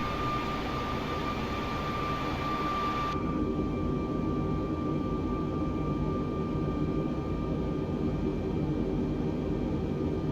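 An airliner flying in Microsoft Flight Simulator 2020 on a Luton to Leeds Bradford route, a steady engine drone and rushing hum that continues unbroken, with the brighter upper hiss dropping away after a few seconds.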